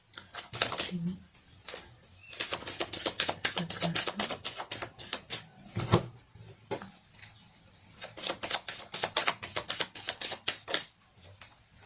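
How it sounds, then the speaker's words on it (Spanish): Tarot cards being shuffled by hand, with repeated bursts of quick crisp riffling and slapping clicks separated by brief pauses, close and fairly clear. "Ahora vamos a barajar las cartas de profundización sobre la carta de separación"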